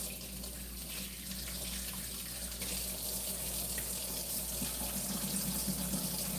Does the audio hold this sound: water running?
yes